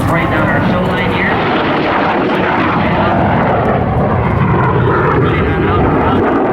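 A Soviet-bloc jet aircraft streaks down the airshow line at around 500 miles an hour, a loud, continuous broadband roar filling the whole stretch, with an announcer's voice running beneath it.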